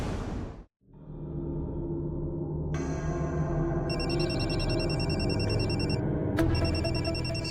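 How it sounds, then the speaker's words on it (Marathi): A telephone rings indoors in a drama scene, an electronic ringtone with a melodic repeating pattern that starts after a brief drop in sound and keeps going under a steady musical bed. "संचिता मॅडमचा फोन."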